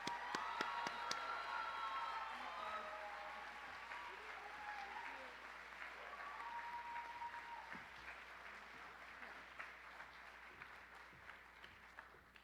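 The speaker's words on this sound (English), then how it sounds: "Please join me in giving Eden and Kira a hearty round of applause for all they've already accomplished." An audience at a guide-dog graduation ceremony claps in a sustained round of applause that stays fairly soft and distant, with a few sharper claps and faint crowd noise throughout.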